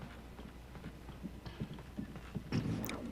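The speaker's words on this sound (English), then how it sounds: "What are these footsteps I'm hearing?" Footsteps in the Alan Wake video game, a steady run of moderately close thudding steps with a louder scuffing burst near the end, over a low ambient hum.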